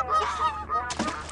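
Geese in the video game Thirty Flights of Loving honking repeatedly, a string of nasal calls with a louder, brighter honk near the end, close and clear with no talk over them.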